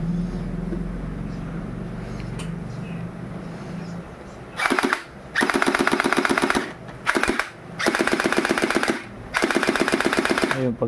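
M4 gel blaster toy gun firing several rapid full-auto bursts of sharp clattering pops, separated by short pauses; close and loud with no talking.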